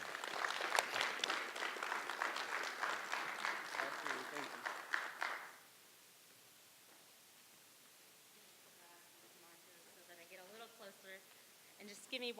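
Audience applause at a speaker series event for someone speaker, a dense steady clapping crowd for about five seconds that then cuts off, followed by quiet room sound and a voice beginning to talk.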